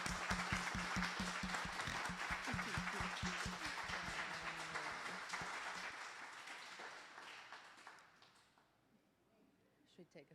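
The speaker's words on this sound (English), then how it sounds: "please join me in a giant round of applause for the incomparable and amazing Kablusiak" A giant round of applause from the audience at an artist talk, dense clapping that holds steady for several seconds and then thins and fades to near quiet, with voices mixed in.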